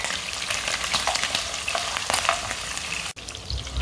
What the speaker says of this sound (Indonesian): Jadi memasaknya saya mau goreng dulu cuminya sebentar sampai kadar airnya